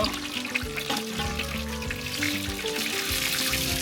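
Crispy pata, a large pork leg, crackles hard in hot oil on its second frying over a strong flame, a dense, continuous sizzle with sharp pops, close and loud with no talk.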